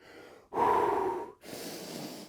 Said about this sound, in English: Get that nasal breathing recovery